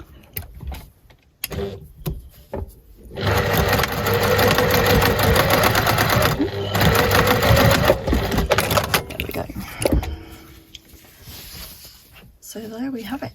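A sewing machine stitches knit fabric for a steek in loud, fast runs, stopping and starting several times with short pauses and fabric handling between bursts.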